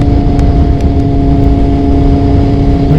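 A 2000 Kawasaki ZX6 600cc sport bike being ridden, its engine droning loud and steady at a constant pace with a hum close up.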